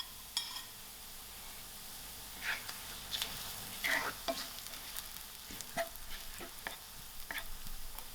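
Onions and cumin seeds fry in a pan, a soft steady sizzle with scattered scraping stirs and light utensil clicks throughout, close and fairly quiet.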